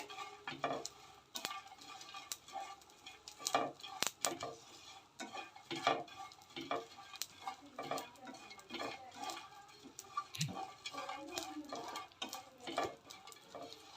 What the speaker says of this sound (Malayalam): നന്നായി ഫ്രൈ ആയി വരുന്നുണ്ട്